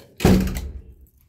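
A door in a narrow hallway of a home closes with a single solid thunk that rings out briefly and decays, heard close and alone.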